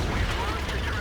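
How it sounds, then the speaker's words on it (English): An AMX 13 90 tank gun fires in World of Tanks, a single dense booming blast that fills the whole short moment, close and loud, with a voice faintly underneath. "It is facing me, so let's shoot him from the move."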